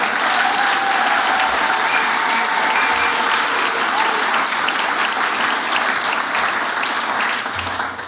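An awards ceremony audience breaks into loud, sustained applause, dense clapping that carries on evenly throughout with a faint murmur of the crowd beneath.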